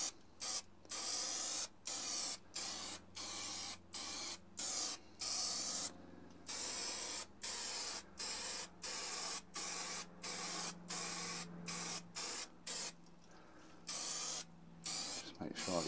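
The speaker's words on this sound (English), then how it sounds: "3M Super 77 spray adhesive" Repeated short bursts of 3M Super 77 spray adhesive hiss in a steady rhythm, close and fairly loud, with brief gaps between each burst.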